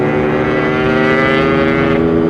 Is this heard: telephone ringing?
no